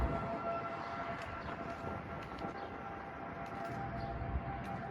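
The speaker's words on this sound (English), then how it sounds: "They test tornado sirens." Weekly Tuesday test of tornado sirens, a faint, distant sustained wail with a steady pitch held across the whole stretch under soft outdoor background noise.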